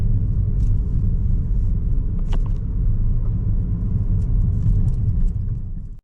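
A car drives through the streets of San Juan, Puerto Rico, with a steady low engine and road rumble from inside the cabin and a few faint clicks and knocks.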